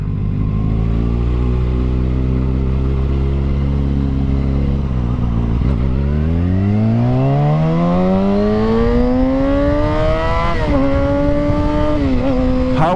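Kawasaki Ninja ZX6R motorcycle engine while riding: a loud, steady close drone whose pitch falls, then climbs strongly through acceleration, with brief dips at gear changes.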